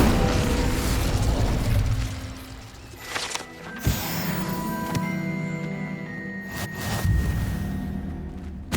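A spell blast in Hogwarts Legacy: loud whooshing bursts and booming pops over a dense, ringing game soundscape, several impacts in succession with tonal magical shimmer between them.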